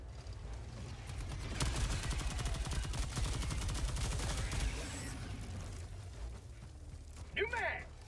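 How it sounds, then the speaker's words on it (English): Rapid rifle gunfire from a medium armor-penetration weapon in a tactical shooter video game, sustained bursts of loud close shots with a person talking over the shooting and a brief pause before a final burst. "this rifle with the medium armor penetration"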